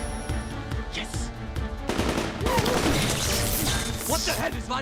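Loud machine gun fire in an action film during a security breach scene, with rapid bursts and crashing impacts over a busy soundtrack; brief voices are faintly mixed in.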